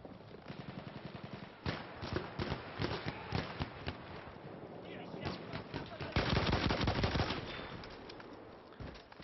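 Battlefield 1 battle gunfire: repeated loud bursts of automatic shots and single cracks over continuous combat noise, with a dense, heavier volley near the end.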